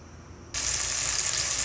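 Garlic, onion and ginger hit hot oil for ginisang monggo, a sudden loud sizzle bursting in after a quiet moment and holding steady and bright to the end.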